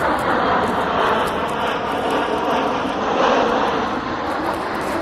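A fixed-wing airplane passes overhead at an outdoor location in Kinloch, Missouri, producing a loud, steady engine roar that stays strong throughout, with no voices.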